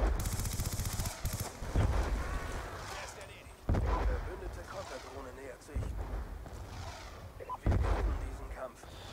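Gunfire and explosions from the video game Call of Duty Black Ops 2, with sudden loud blasts recurring every couple of seconds over a steady rumble of battle noise, while people talk over it.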